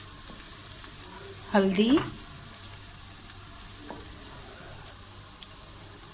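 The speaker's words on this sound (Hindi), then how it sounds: "आपने सौते कर लेना है, तकरीबन 1 मिनट के लिए" Onions sautéing in a pan with turmeric and crushed red chili for a potato samosa filling, giving a steady, soft sizzle throughout with a brief spoken word near the start.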